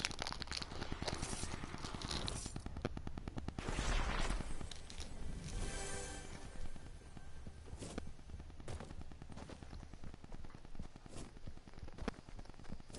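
Rapid shotgun fire and other gunshots crack repeatedly in an online console shooter, dense bursts and sharp reports recurring across the stretch amid busy game noise, fairly close but moderate in level.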